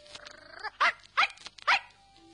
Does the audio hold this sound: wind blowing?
no